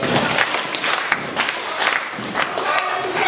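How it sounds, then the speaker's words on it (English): A youth drum corps group stomps and claps together, a repeating stomp-clap-clap pattern of sharp, roughly regular bursts over crowd noise and voices across about three seconds. "everybody goes stomp, clap, clap, stomp, clap, clap"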